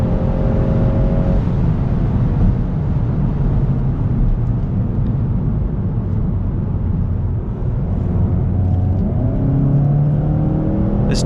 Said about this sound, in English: This DSG is making good shift decisions on its own in sport mode.